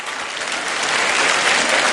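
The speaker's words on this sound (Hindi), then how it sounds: "तो सारी औरतों के लिए तालियां." A large pageant audience at the Miss India grand finale claps loudly for the women, thick steady applause building a little toward the end.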